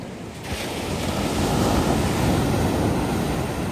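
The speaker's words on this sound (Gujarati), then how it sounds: "એટલા બધા દૂરથી એવડે એવડે મોજા ભાંગે" Waves on a rough sea with a strong current break and roar continuously, a broad, loud wash of surf with wind buffeting the microphone.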